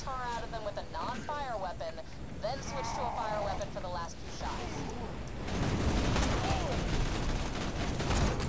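Gunfire in Borderlands 2 co-op play, dense bursts of shots building in the second half under music and game chatter while someone talks over the first part.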